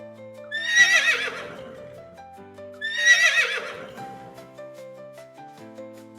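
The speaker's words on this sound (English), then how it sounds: "Horses say neigh, neigh." Two loud, close horse whinnies, each a shrill rising then falling neigh lasting about a second, separated by a pause, with no talking.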